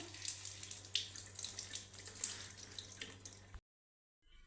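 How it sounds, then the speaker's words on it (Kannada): Freshly picked Bermuda grass is washed under running water from a tap, a close splashing, gushing stream with small sloshing bursts that cuts off abruptly near the end, without talk. "ಇದನ್ನು ಇವಾಗ ವಾಶ್ ಮಾಡ್ಕೋಬೇಕು. ಚೆನ್ನಾಗಿ ವಾಶ್ ಮಾಡ್ಕೊಳ್ಳಿ."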